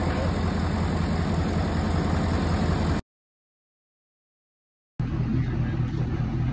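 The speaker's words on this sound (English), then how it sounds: "Truck runs like a top." Truck engine idling steadily after a long repair job, a loud, close, continuous low rumble that cuts out for about two seconds midway and then resumes.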